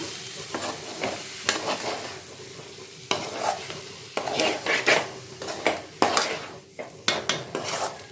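Drumstick fry with coconut is stirred in a pan over medium flame, a spatula scraping and clattering against the metal in repeated strokes over a soft sizzle.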